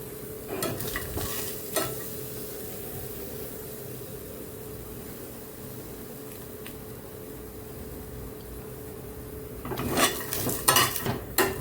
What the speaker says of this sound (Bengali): এখন আমি কিছুটা বাদাম, কাঁচা বাদাম একটু ভেজে নিচ্ছি